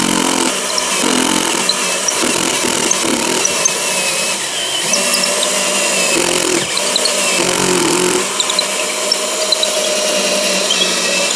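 A poorly performing power drill runs continuously, loud and close, with a steady grinding whine that shifts slightly as the load changes. Nobody speaks.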